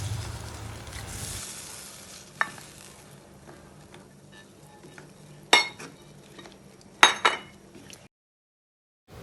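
Coconut milk goes into a pot of jackfruit-seed fish curry (kalupol maluwa) with a soft sizzle, followed by quiet stirring and a few sharp clinks of a utensil against the pot, close up with no voices.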